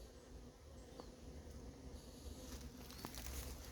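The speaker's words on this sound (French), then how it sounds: "Voilà, un frelon ici qui tourne autour des ruches." Hornets hover around beehives in an apiary on an island, giving a continuous buzzing drone of insects close by, with soft outdoor background noise and no talking.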